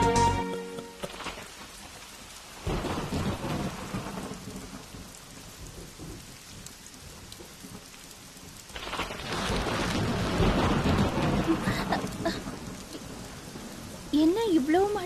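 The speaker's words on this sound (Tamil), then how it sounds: "என்ன இவ்வளவு மழை பெய்யுது?" Heavy rain pours steadily over a city during a sudden downpour while thunder rumbles in long rolling swells. The rain surges louder partway through, and a voice is heard faintly under the storm.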